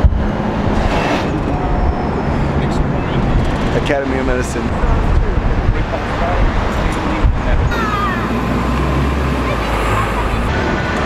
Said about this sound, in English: we're actually on the bus right now.